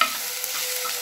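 Vegetables stirred in a hot pan for a village-style dry fish curry give a short, close burst of soft scraping over a steady hiss of frying.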